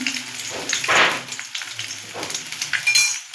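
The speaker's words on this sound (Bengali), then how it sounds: "দেখুন আমি কড়াইতে তেল বসিয়ে নিয়েছি। এবার আমি এর মধ্যে 2টে ডিম ফাটিয়ে দেবো।" Two eggs are cracked into hot oil in a wok and start frying, giving bursts of sizzling and spattering with a few light clinks, fairly close.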